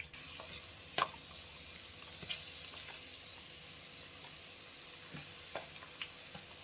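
Soft, continuous sizzle of garlic paste frying in oil, with an occasional light click or tap from a utensil.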